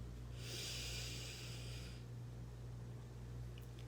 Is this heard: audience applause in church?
no